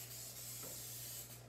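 Cooking spray hisses steadily into an 8x8 baking pan for a second and a half, a close, continuous broadband spray with no pauses.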